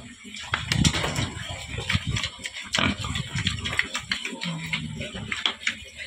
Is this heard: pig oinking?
yes